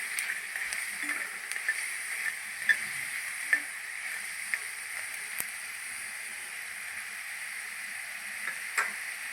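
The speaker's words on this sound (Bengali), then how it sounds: "লাল করে ভেজে নেব।" Meat-and-red-lentil pakoras deep-frying in oil, a soft steady hiss of bubbling oil with scattered light ticks and clinks, quiet and close.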